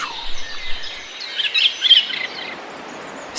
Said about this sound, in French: S'émerveiller du prodigieux concert que les oiseaux nous offrent dès le lever du jour.